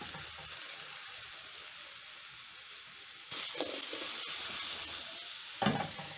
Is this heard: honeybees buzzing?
no